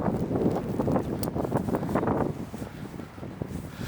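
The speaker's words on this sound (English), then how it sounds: "it's been windy, isn't it?" Gusty wind buffets the microphone outdoors, a rough, low rumbling roar that rises and falls in uneven surges throughout.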